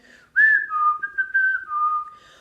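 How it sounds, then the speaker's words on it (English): A person whistles a short, clear wavering tune, a few sliding notes rising and falling over about two seconds, close and alone in a quiet space. "Why are you still whistling?"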